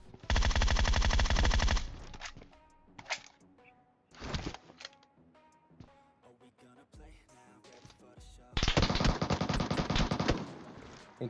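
Bursts of automatic gunfire from an MK14 rifle in the mobile battle-royale game PUBG Mobile, with two long sustained loud volleys at the start and end and scattered shorter shots between, over faint in-game background sound.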